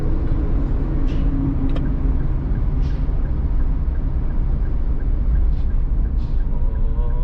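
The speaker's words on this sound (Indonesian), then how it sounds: "Ini truk semen ini di samping kayak ini." Steady broadband rumble of a cement truck running alongside in city traffic on a Batam street, loud and continuous with a low engine drone and passing traffic, no talk.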